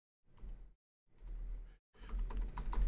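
Computer keyboard typing in three quick bursts of keystrokes separated by short pauses, the last burst denser and louder, close and fairly quiet with no talking.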